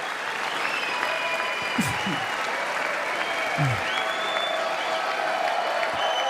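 Sustained applause from a large audience at a State of the Union address fills the whole stretch as a steady, even wash, with faint voices briefly audible beneath it.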